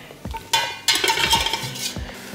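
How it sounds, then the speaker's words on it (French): Pho broth ingredients seared lightly in a saucepan: a few clanks and scrapes of the pan give way to a bright sizzle that swells and holds, close and fairly loud, with a stirring clatter near the end. "Donc vous marquez tous les ingrédients légèrement"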